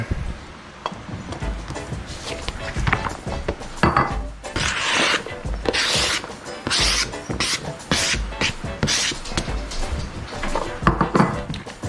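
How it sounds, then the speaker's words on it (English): A knife roughly chops vegetables on a board while cooking: rapid, uneven, close thuds and scraping strokes in irregular bursts, with no voices. "So just roughly chop that."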